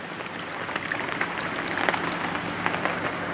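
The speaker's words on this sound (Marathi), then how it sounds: "तुफान पाऊस चालू आहे" Heavy rain pouring steadily outdoors, a dense continuous patter of drops striking surfaces, fairly loud and unbroken, with no voices.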